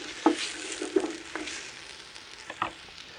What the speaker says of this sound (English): chuck our onions in. You just want to fry them until they're kind of translucent a little bit.